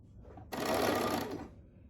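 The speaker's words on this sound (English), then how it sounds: "we're just gonna sew it to the seam allowance with a zigzag stitch or a stretch stitch" Sewing machine running a zigzag or stretch stitch to attach clear elastic to a seam allowance, one close steady whirring burst of about a second, starting abruptly and fading out.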